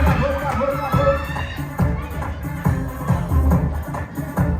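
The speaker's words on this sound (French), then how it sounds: "Applaudissez s'il vous plaît. Oh, bravo." A school audience at a student quiz final cheers and claps, crowd noise and children's shouts rising in bursts over music-like tonal sound, with some voices mixed in.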